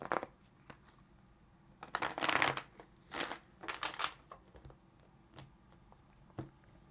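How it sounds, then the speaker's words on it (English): Tarot cards are shuffled in several quick riffling bursts, close and fairly soft, with brief pauses and light taps between them. "Let's get this one last shuffle."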